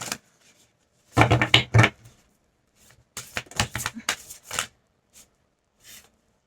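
Tarot cards shuffled by hand in short bursts of riffling clatter, close and crisp, separated by near-silent pauses.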